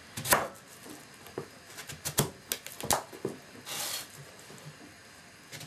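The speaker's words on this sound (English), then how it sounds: "So this one will be cut. Sharp knife, don't forget. Cut in pieces." Sharp knife chopping a pumpkin into potato-sized pieces for Caribbean sweet potato and pumpkin cooking, a series of crisp close cuts and knocks on a board at an uneven pace, with no talking.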